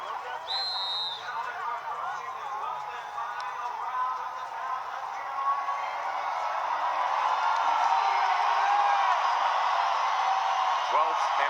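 Boxing arena crowd cheering for a homegrown world champion before a final round, a broad sustained roar with whoops that swells louder toward the end, with voices talking over it.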